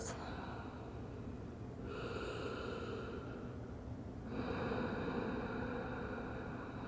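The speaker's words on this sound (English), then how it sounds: "Take a few breaths." Slow, deep breaths during a yoga child's pose in a quiet room, with soft inhales and exhales rising and falling over several seconds and no talking.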